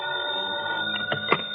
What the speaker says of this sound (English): the phone beside my bed started jangling again.